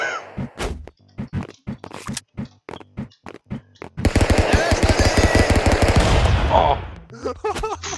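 Gunfire in the brawler game Stick Fight starts as a string of separate punchy shots, then becomes a loud sustained rapid-fire burst that cuts off abruptly, with a brief exclamation from a player.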